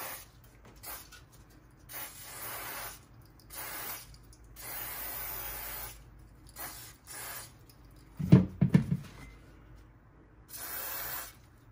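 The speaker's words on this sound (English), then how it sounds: "Contact electric contact cleaner. And so I'm going to have at her with that." Repeated bursts of electrical contact cleaner sprayed from an aerosol can onto a Singer 401A sewing machine motor, close and hissing, several sprays separated by pauses, with a brief clatter of mechanical handling partway through.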